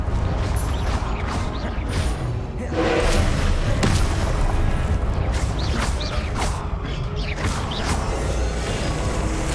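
Spell blasts from the Confringo fiery blasting curse in Hogwarts Legacy, dense booming impacts and crashes repeating over constant loud game noise throughout.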